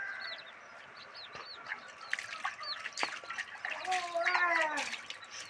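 A hen clucks and calls to her chicks outdoors, the short calls repeating among chirps of other birds, with a person talking now and then over the scene.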